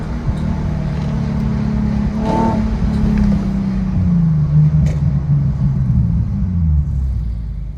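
A Nissan 370Z Nismo fitted with test pipes launches in second gear, its exhaust a loud, deep rumbling roar that climbs in pitch as the engine revs up, then eases back down, heard from close by.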